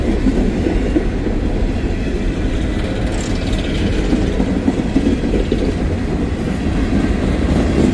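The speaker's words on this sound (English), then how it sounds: "Empty coal hoppers here." Freight train of empty coal hoppers rolling past at speed, a loud, continuous rumble and rattle of wagons with steady clatter filling the whole stretch, close by.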